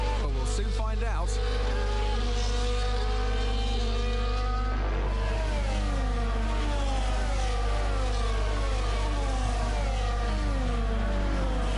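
Formula 1 cars from F1 24 roll through a formation lap at the Dutch Grand Prix in the Netherlands, engines rising and falling in steady revving sweeps under a constant low drone, several cars overlapping.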